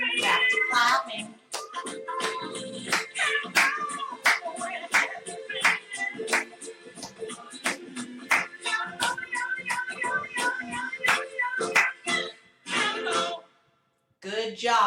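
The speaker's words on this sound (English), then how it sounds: "Back to clapping." Rhythmic hand clapping to a steady beat in a children's music rhythm lesson, crisp regular claps under an adult voice speaking and a song playing along.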